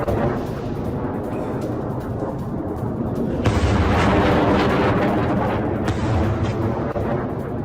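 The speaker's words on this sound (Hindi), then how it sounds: "अब सऊदी अरब में किंग खालिद एयरबेस के ऊपर इंटरसेप्टर मिसाइलें दागी गई हैं।" Interceptor missiles launched over King Khalid Air Base in Saudi Arabia, a loud continuous roaring rush that swells abruptly midway and stays heavy, heard from a distance with a faint voice present.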